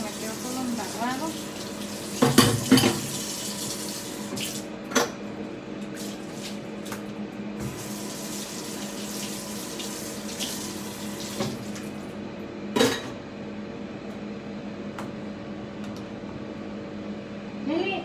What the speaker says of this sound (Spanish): Aquí voy a lavar este plato que me quedó todo embarrado.